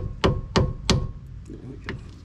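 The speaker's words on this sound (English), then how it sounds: "If they're not coming out, just give your screwdriver a little tap." A hammer taps the end of a screwdriver set in a Phillips head screw on the front brake assembly of a Nissan Pathfinder, giving three sharp, evenly spaced metallic knocks and then a fainter fourth tap, all close by.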